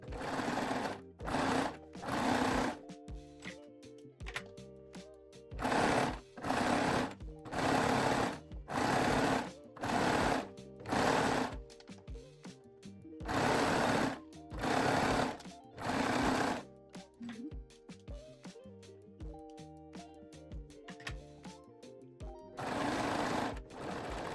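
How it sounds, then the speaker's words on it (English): A coverstitch sewing machine stitches plush-back elastic onto mid-rise panties, running in loud repeated bursts of rapid mechanical whirring separated by short pauses, with no talk. "You can gently stretch the elastic while sewing to keep the fabric nice and flat."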